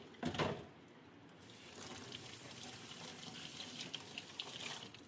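Tap water runs steadily into a kitchen sink while crab is washed, a soft continuous splash with a brief louder gush near the start and no talk.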